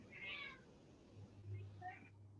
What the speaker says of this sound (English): I think your cat is hungry.